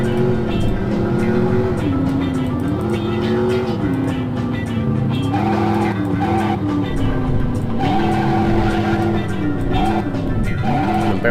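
Engine drone and tire squeals from the PS1 driving game Driver 2 (2000), a car revving and skidding repeatedly in steady, loud game audio with no talk over it.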